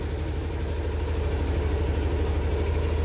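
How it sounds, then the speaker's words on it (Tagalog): A Yamaha NMAX V3 Turbo scooter engine idles steadily up close, a loud, even low putter with a fast regular pulse and no talking. "Start nga natin yung motor natin."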